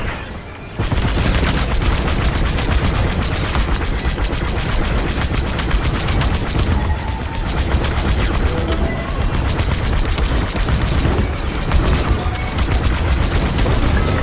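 A space battle in a video game, with heavy fire against a corvette as Imperial TIE fighters swarm in: a dense, unbroken roar of blasts, booms and rapid weapon fire, loud and continuous throughout.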